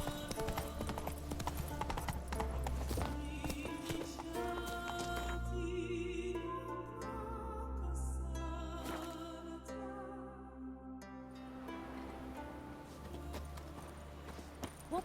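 Roach, the horse in The Witcher 3, gallops with rapid, even hoofbeats that run throughout, close and clear over a layer of orchestral game music, with no talking.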